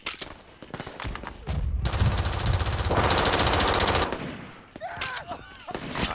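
Automatic gunfire in the first-person shooter Brink bursts out in a sustained rapid rattle, loud and close, between sharper single shots and clatter.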